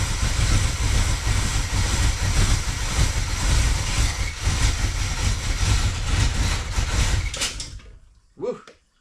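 An engine with a broken choke circuit runs roughly while warming up, a loud, uneven rumble that cuts out near the end, followed by a brief exclamation from a voice.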